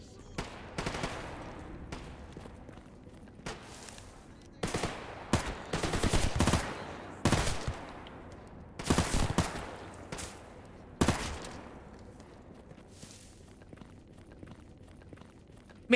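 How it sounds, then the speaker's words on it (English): SMG fire in a video game, rapid bursts of gunshots rattling out in repeated clusters separated by short pauses, loud against a quiet background. "Man, this SMG fucking rips."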